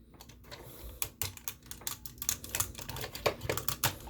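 Quick, irregular plastic clicks, close up, as a Transformers toy's arm joint ratchets through its notches, with no voices.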